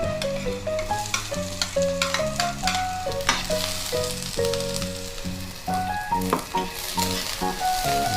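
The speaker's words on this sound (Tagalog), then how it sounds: "Tapos lagay ko na rin yung sibuyas" Garlic and onion frying in a pan toward golden brown, a constant sizzle with repeated stirring knocks beneath prominent melodic background music, no talking.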